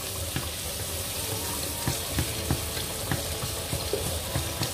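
Frozen garlic frying in a pan, a low, busy sizzle with scattered pops and crackles, heard close and alone at modest volume.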